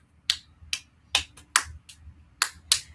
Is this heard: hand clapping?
yes